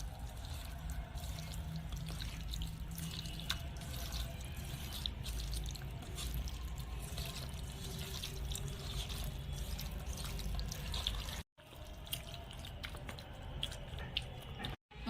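Chuna fish being marinated by hand with spices and a generous amount of oil, giving steady close squelching, squishing and dripping sounds that run continuously with a brief pause near the end.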